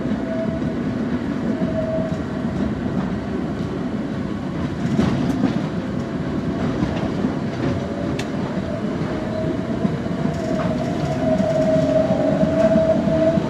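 A historic tram sets off and rolls through the streets of Turin from Piazza Castello, with a steady loud rumble of wheels on rails and a sustained motor whine rising and falling.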